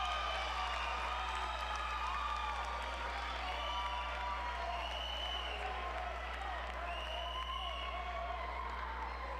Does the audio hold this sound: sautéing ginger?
no